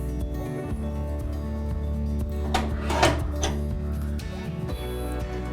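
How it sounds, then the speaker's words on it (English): The vent controls on a wood stove with twin glass doors are worked shut and then reopened, giving several soft metallic clicks and slides over a steady low background hum, with one sharper clack near the middle. "I'm just going to quickly close the stove off, open back up again, just to show you the controllability of the vents"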